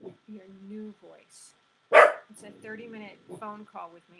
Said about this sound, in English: oh, excuse my dog barking